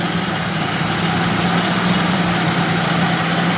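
A car engine idles steadily after a carburetor repair, a continuous close hum and rumble with light vibration and no talking.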